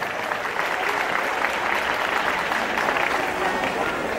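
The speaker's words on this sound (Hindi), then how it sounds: "तो सुरसना फाउंडेशन जोरदार तालियों से स्वागत है सुरसना फाउंडेशन का।" A crowd at the Lucknow Mahotsav stage dance show gives the Sursana Foundation loud applause, sustained clapping at an even level throughout.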